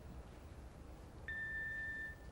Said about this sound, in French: Laissez un message après le bip.